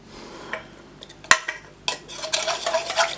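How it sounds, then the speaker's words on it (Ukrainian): Spoon stirring gelatin into hot milk in a pot for a no-bake chocolate mousse cake, with irregular scraping and clinking against the pot, one sharp knock and louder busy stirring toward the end. "Так, водичку, бачите, залишаю і гарно розчиняю його у цьому гарячому молоці."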